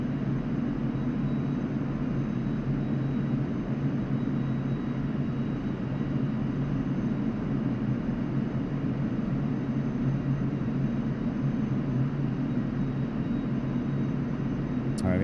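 Su-25T Frogfoot ground-attack jet on landing approach in the DCS flight simulator, a steady, loud engine drone and rushing wind noise held constant throughout without a break.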